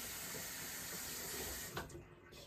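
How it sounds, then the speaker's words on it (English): A tap runs in a steady, loud, close hiss as a part of a Magical Butter machine is rinsed under it, with a brief splash change near the end. "We're not going to put it in the water. We're just going to rinse it."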